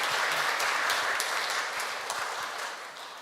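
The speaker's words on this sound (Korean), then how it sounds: "박수 한번 쳐주세요." A congregation at a Korean Buddhist dharma service claps in a dense, steady round of applause that carries on evenly for about three seconds and tapers slightly at the end.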